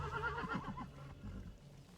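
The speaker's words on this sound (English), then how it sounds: "Did I just kill a horse?" A horse whinnies in the game Ghost of Tsushima, a quiet wavering neigh that fades after about a second, followed by low rumbling game sound.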